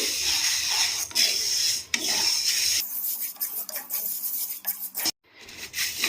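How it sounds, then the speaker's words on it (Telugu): Moong beans are dry-roasted in a pan, stirred with steady scraping and rasping strokes as the grains rattle against the metal, close and fairly loud, with a brief pause near the end. "ఇలా మనం మనం కలుపుకుంటూ వేయించుకోవడం వల్ల అన్ని వైపులు కూడా వేగి సమంగా వేగుతాయి"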